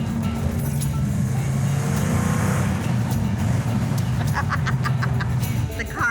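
A car engine roars under hard throttle, a loud sustained drone from inside the vehicle with faint clicks near the end.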